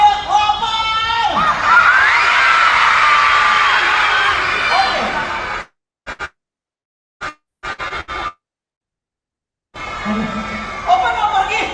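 A room of children at a church youth session shout together loudly, a noisy crowd cheer near the microphone, broken by abrupt silences before the shouting resumes.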